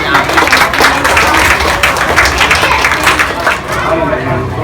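A crowd claps continuously for several seconds at a motocross championship event, a dense patter of hands with some murmuring voices mixed in.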